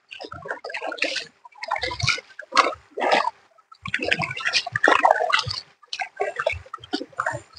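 Steps sloshing through shallow water at night while catching crabs, with irregular splashes and drips, close and fairly loud, coming in bursts with short pauses between.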